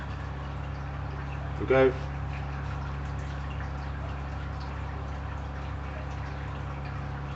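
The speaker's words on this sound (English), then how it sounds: "we're going to try and give him a little bit of a mist" A single short hiss of water mist is sprayed toward a dehydrated Yemen chameleon, quiet and brief against a steady low background hum, with a voice speaking briefly.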